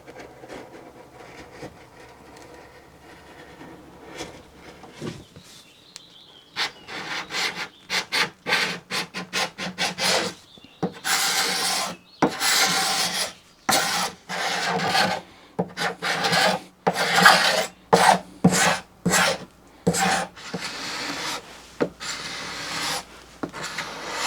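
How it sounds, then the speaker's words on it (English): Bedding compound is scraped off solid teak trim on a boat deck house with repeated rasping strokes, close and steady. The strokes start faint and grow louder and more rhythmic, and no one speaks. "It was satisfying to scrape off, especially since the oils in the bedding compound kept the teak underneath its original deep orange color."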